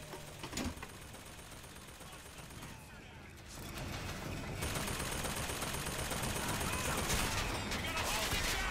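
Weapon fire from the video game BioShock Infinite crackles in rapid noisy bursts that grow denser and louder toward the end, mixed with other game sounds.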